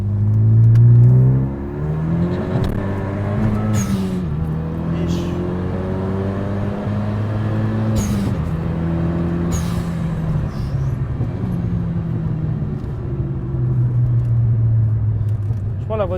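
A Renault Mégane 3 RS engine revs through its exhaust line, a steady rising and falling drone with sharp bursts and pops, and someone talks over it.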